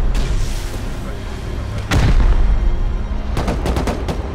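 Rockets launched in the survival game Rust: a loud burst of firing with a heavy booming low thump partway through, then a quick cluster of sharp cracks, all close and dense.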